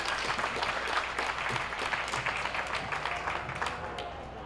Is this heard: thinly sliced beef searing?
no